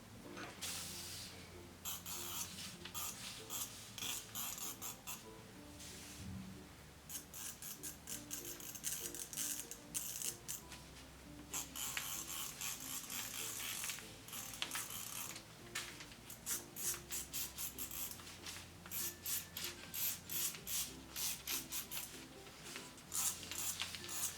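Scissors cut a sweatshirt pattern out of paper in a quiet room, making repeated crisp snipping and rustling sounds. The cuts come in irregular bursts with short pauses between them.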